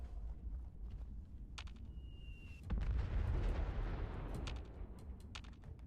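Turret firing in Fallout 76 during a PvP custom-world CAMP fight, a rolling burst of heavy blasts and rumble that swells midway and lingers, with a few sharp cracks and a faint tone before it.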